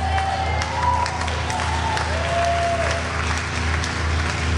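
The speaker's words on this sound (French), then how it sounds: "Mais tu peux applaudir, Pierre Grillet." An audience applauds at JoeyStarr's Éloquence à l'Assemblée performance at Gare Saint-Lazare station, with continuous, even clapping filling the space and faint tonal station sounds underneath.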